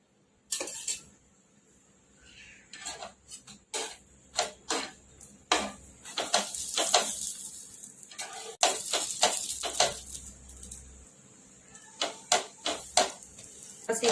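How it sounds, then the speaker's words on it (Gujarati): A vegetable kulcha pocket roasts in a pan over low heat. Faint, quiet crackles and scattered ticking pops come in irregular bursts with near silence between them. "પલટાઈ લઈશું આપણે, અને ધીમા તાપે શેકી લેવાની છે।"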